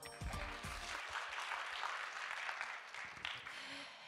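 Applause from an audience at the opening ceremony of an academic symposium, a steady wash of clapping lasting several seconds at moderate distance, fairly quiet throughout with no voices over it.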